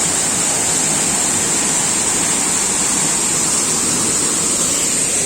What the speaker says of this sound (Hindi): ये है नीर झरना।